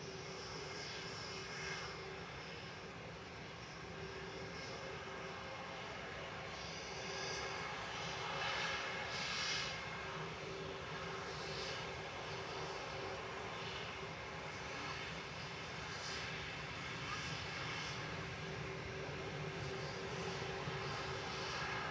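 Lufthansa Airbus A320 Classic jet bound for Munich at Manchester Airport, a continuous engine roar with a steady tonal whine, swelling slightly louder midway and holding at a moderate distance.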